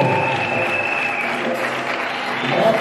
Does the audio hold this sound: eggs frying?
no